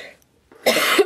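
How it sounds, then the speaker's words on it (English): A single short cough bursts out after a brief pause, close and fairly loud. "Sorry for the coughing."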